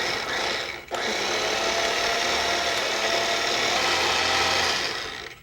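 A blender chops a quartered Scotch bonnet pepper with garlic and a splash of vinegar, roaring steadily and loudly for about five seconds after a brief stop near the start.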